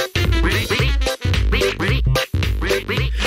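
A cartoon duck in Pocoyo quacks rapidly and repeatedly, a bright nasal stream of loud, close calls broken only by a couple of brief pauses.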